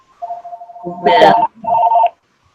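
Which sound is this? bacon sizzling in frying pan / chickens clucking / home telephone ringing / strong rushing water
home telephone ringing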